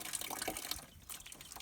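Collected gutter rainwater pours and splashes into a container for watering plants, a soft, uneven liquid trickle with small drips, quiet and close.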